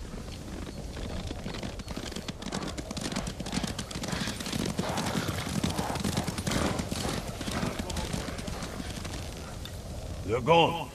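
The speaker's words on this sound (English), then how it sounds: "Hear that? Horses!" Horses gallop past in the video game Ghost of Tsushima, a rapid, continuous clatter of hooves at moderate distance, building slightly, with a whinny near the end; voices talk over it.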